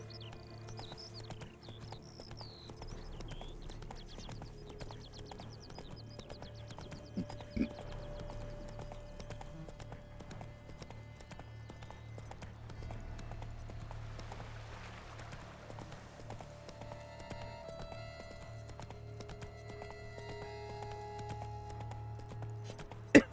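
Horse hooves clip-clopping in The Witcher video game, a steady, quiet patter running throughout against a low droning game backdrop, with no talk.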